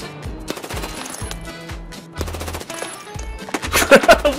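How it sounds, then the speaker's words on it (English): Rapid bursts of automatic gunfire ring out in the first-person shooter Escape From Tarkov, sharp repeated shots in clusters, close and loud, ending in a louder volley. "What are you shooting at?"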